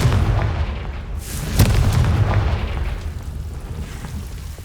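Confringo, the fiery blasting spell in Hogwarts Legacy, goes off as a deep booming burst with a sharp crack partway through, followed by a rumbling tail under continuous game ambience.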